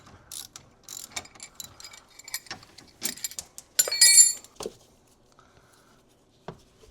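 Ratchet wrench worked by hand on a spinning suspension bolt while fitting coilovers to a BMW E91, a run of quick mechanical clicks and rattles close by, with a louder burst midway before it tapers to near silence.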